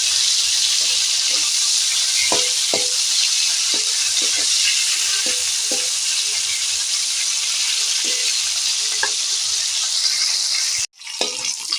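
Prawns sizzle steadily in hot oil in a kadai after being flipped, a continuous close frying hiss with occasional soft pops and light utensil taps, breaking off briefly near the end.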